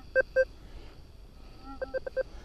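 A metal detector in mix mode gives short electronic signal tones in the field: two beeps, then a quick run of four or five more, fairly close and clear.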